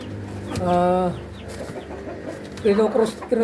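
A crossbred mestizo native chicken rooster clucks close by in short, throaty bursts, with a longer tonal call near the start and a few more clucks toward the end over low farmyard background.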